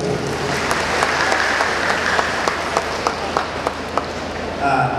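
An audience at a Bagong Pilipinas Service Fair opening program in Tawi-Tawi breaks into steady applause, with a voice speaking over the clapping.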